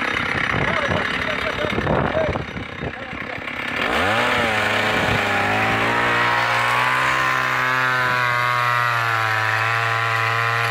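A STIHL chainsaw engine roars loudly and continuously, rising from rough revving into a sustained high-pitched whine; voices are heard early on beneath the engine.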